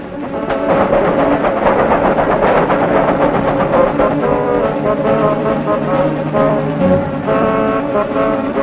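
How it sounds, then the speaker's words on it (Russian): Loud, sustained horn-like blare with rumbling machinery beneath it, like a train drawing near, continuous and close. "поезд!"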